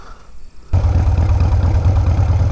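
A Harley FXR motorcycle engine fires up and settles into a steady, loud idle with a deep, rhythmic low-end thump, running alone close to the microphone.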